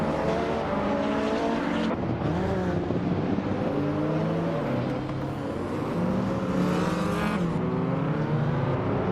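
Racing cars in a video game race, including a 1987 Buick GNX muscle car, roar continuously with steady engine drone, shifting revs and passing cars throughout, no talking.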